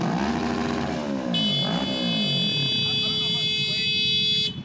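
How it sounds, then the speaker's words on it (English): A vehicle horn honks loudly at close range, a sustained blaring tone accompanied by a high whine, while a person talks nearby. "You know it's bad when your horn's louder than your exhaust."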